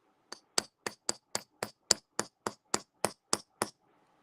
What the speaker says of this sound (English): when I'm hitting it, the hammer is going straight up and down on top of the tool